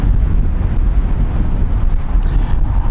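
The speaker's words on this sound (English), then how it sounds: "Man, this wind sucks." Outdoor wind buffeting the microphone in a constant loud low rumble with gusty fluctuations, no voices.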